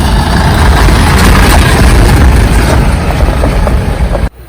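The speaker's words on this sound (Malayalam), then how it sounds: "സഞ്ചാരികളെ വഹിച്ചുകൊണ്ടുള്ള ബസ്സാണ് കേട്ടോ ഈ ബസ്സിലാണ് നമ്മൾ" A Tamil Nadu government tourist bus rumbles with a loud, heavy, continuous engine drone close by, holding steady for about four seconds before cutting off abruptly.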